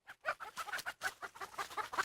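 Several chickens cluck in a steady, busy run of short calls close by, with brief gaps between bursts and no one speaking over them.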